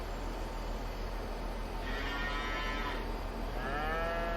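Cattle on a pasture in Farming Simulator 22 give two drawn-out moos, the first in the middle and the second toward the end, heard over a steady ambient hum.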